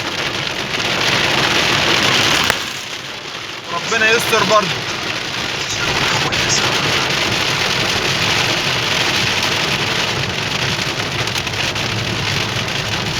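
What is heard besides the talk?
heavy rain falling during a storm in Saudi Arabia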